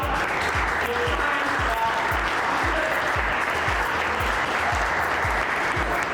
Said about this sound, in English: you have to clap for us